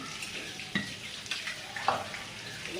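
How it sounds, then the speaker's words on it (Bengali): Chopped onions fry in hot oil with a steady, bright sizzle close by, broken by a few soft clinks and stirring noises from a pan. "পেঁয়াজের কালি ভেজে নেব"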